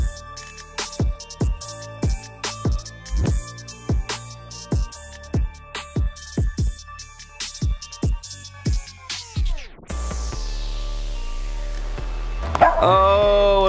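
A dog barks repeatedly in a steady run of close, loud yaps for about ten seconds outdoors near a riverside with an inflatable flamingo raft, then the barking stops, replaced by a steady noisy hiss and a brief sharp sound.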